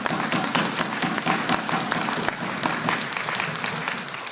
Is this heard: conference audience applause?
yes